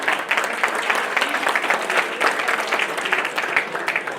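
A live audience at a health discussion event in Jaipur breaks into steady, dense applause, many hands clapping continuously at moderate loudness with no talk over it.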